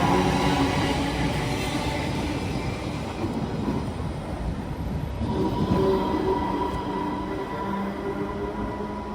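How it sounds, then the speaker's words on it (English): A GWR Class 230 battery train stands at West Ealing, reconnected to its charging circuit, with a steady, continuous mechanical hum and rumble that stays fairly loud and even throughout. "this train has just reconnected with the charging circuit that allows its batteries to very quickly recharge for its return journey to Greenford"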